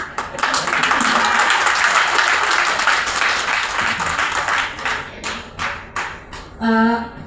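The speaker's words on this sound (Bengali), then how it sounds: "তালি বাজানোর যখন কথা হয় তখন একটু জোরে তালিটা বাজাবেন যেন আমরা শুনে উৎসাহিত হয়ে যাই" Audience applause fills a lifetime achievement award ceremony in Bangladesh honouring Runa Laila, a dense, steady clatter of many hands for about five seconds before it thins and a voice begins to speak.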